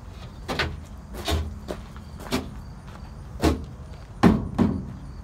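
Doors on a pickup truck, a run of about seven sharp thuds and clunks spaced unevenly over several seconds, fairly close, with no talking.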